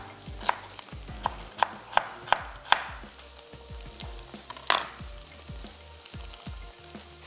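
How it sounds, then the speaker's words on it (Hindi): Beef and vegetables frying together in a pan, a steady sizzle punctuated by a series of sharp, evenly spaced clacks of a utensil against the pan, then a louder scrape. "जब आपका बीफ डन हो जाए तो आप इसमें कुछ मिनट्स पहले वेजिटेबल्स ऐड कर दें और दोनों चीज़ें साथ में फ्राई हो जाएंगी"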